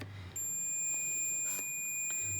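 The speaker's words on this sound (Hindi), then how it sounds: "मल्टीमीटर का भी आवाज़ आना चाहिए।" A digital multimeter gives a thin, high, continuous beep on a continuity test of a vehicle fuel injector circuit; the tone starts shortly in and holds steady, fairly quiet against the room.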